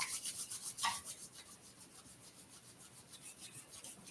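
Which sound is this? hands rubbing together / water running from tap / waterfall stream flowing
hands rubbing together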